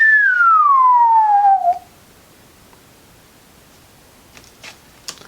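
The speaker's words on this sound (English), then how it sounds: "I usually can whistle really well." A person gives one long, clear whistle that glides steadily downward in pitch for under two seconds, then stops abruptly, leaving near silence with a few faint soft breaths or rustles.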